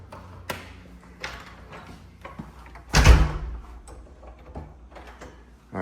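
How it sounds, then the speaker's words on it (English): A sturdy fire door in a house is handled: scattered knocks and latch clicks lead up to one loud heavy thud near the middle, then softer rattles and taps. "Nice sturdy fire door here."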